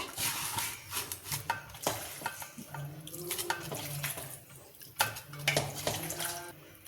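Stirring spice paste and onions together in a pot for a pork curry, with scraping, clinking utensil strokes against the pot and wet shuffling sounds in irregular bursts, close and moderately loud.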